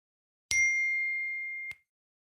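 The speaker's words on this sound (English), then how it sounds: "it sounds like the beginning sounds like a notification on your phone" An electronic notification chime resembling an emergency broadcast alert sounds once, a bright ding that rings steadily for about a second before being cut off, alone in silence.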